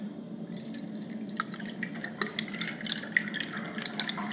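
Cleaner fluid is poured into a pressurised boiler heating system, giving faint, irregular trickling and dripping with small splashes over a low background hum.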